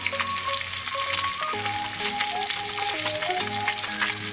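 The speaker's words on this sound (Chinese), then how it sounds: "采用了煎炸的方法来烹饪鱼肉" Fish frying in hot oil in a wilderness cooking setting, a steady crackling sizzle that runs continuously under a melodic music bed.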